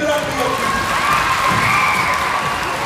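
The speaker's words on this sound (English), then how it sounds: "Give it up for your teachers." Middle school students in a gym cheering and applauding their teachers, continuous loud clapping blended with children's shouts and excited crowd voices across the whole stretch.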